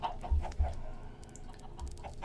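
Chickens cluck inside a coop in the Minecraft video game, a few soft, repeated clucks with low thumps at a moderate distance, faint and steady with no talking.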